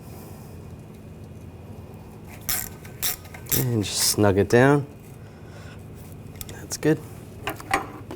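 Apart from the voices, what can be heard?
tightening the rotor screw on a Buick Encore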